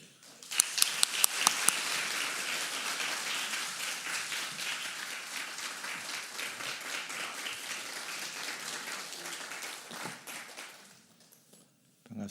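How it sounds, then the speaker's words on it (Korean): A church congregation at Sunday morning worship applauds to welcome the pastor, sustained dense clapping from a large crowd that swells at once, holds steady for about ten seconds, then tapers off. "나오실 때 박수로 환영하겠습니다"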